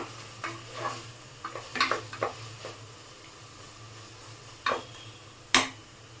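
A spoon scrapes and stirs tomato masala frying in oil for vangi bath, giving scattered soft scraping strokes with a low steady sizzle underneath and one sharper clack near the end.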